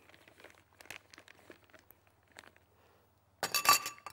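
A plastic piping bag is handled in a home kitchen while a savory mixture is prepared: a few faint ticks and taps, then a sudden loud burst of crinkling near the end.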